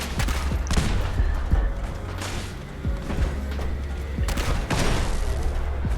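Repeated gunfire from a Ghoulslayer weapon in Fallout 76, a steady string of sharp shots and impacts over a low rumbling backdrop, fairly loud throughout with irregular spacing.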